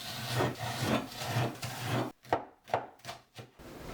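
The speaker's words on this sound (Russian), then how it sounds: "Если слишком крупный лук, то нужно его разрезать пополам, так вдоль, и нарезать, чтобы было мелко." A knife chops onion finely on a cutting board, first in a quick steady run of dense cuts, then in a few separate, sharper strokes with brief pauses between them, close and fairly quiet.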